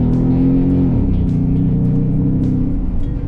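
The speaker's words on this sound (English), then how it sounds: "Let me take it for a test drive after all the suspension work." Car under way on a test drive after suspension work on a $2,500 budget build, a steady loud engine drone with a gear change near one second, then continuous road and engine noise with no talking.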